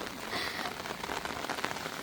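Steady rain falls on a surface in a dense, continuous hiss with scattered drop patter, fairly close and even in level, with no voices.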